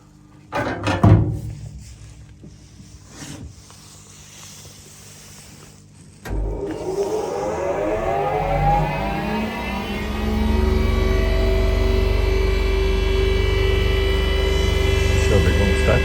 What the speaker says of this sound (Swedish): Och sen då ska vi också köra igång slipskivan